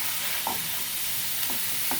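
Steak searing in a hot pan gives a steady, close broadband sizzle, with a few light scrapes and stirring touches and no voices.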